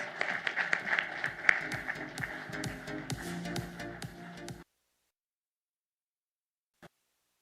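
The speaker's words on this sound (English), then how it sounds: "Please give him a bigger round of applause." An audience at a foundation day ceremony applauds a guest as he is invited to the podium. The clapping is moderate and mixed with hall noise, then cuts off abruptly into silence about two-thirds of the way through.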